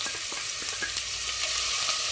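Onion frying in hot oil for a chicken dansak sauce, a dense, steady bright sizzle with faint scraping stirs running through it, close and continuous.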